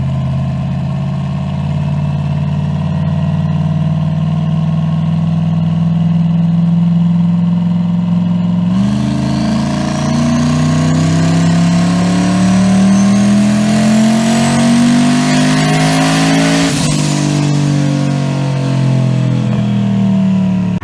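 Turbocharged aluminum 5.3 V8 in a rear-wheel-drive car on a dyno, a loud steady drone that jumps into a long climbing rev, rising in pitch for several seconds before dropping off abruptly and settling back.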